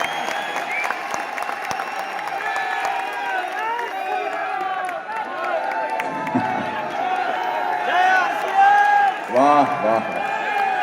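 A large audience at a speech event in Delhi claps and cheers continuously for about eleven seconds, with scattered whoops and shouts rising near the end over dense, steady applause.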